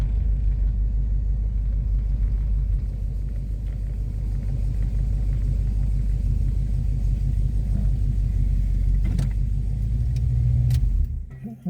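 A 1970 Cadillac Eldorado with an 8.2 liter engine rumbles low and steady as it rolls slowly into a home garage, a close, continuous deep drone that cuts off abruptly at the end.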